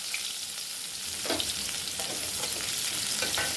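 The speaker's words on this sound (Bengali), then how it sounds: "পেঁয়াজ কুচি ভেজে নেবো।" Chopped onion sizzles in hot oil in a wok, a loud, steady frying hiss running without a break, with light stirring scrapes over it.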